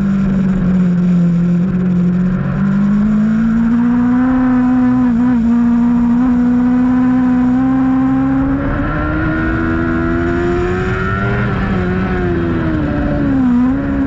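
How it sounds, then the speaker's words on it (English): Superbike racing motorcycles, a Suzuki GSX-R and an Aprilia, roar on the Grattan track at a WERA race, a loud, sustained high engine drone with shifting pitch as they accelerate and pass. "Gruber's GSXR just seems to have a little bit more down that straightaway than the Aprilia"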